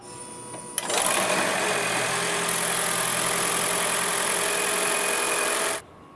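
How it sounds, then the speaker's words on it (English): A Toyota RAV engine idles steadily after an oil change, starting with a sharp onset near the one-second mark and then holding a constant mechanical whir and hum before cutting off abruptly. "Now we need to start the engine and let the vehicle work for a few minutes."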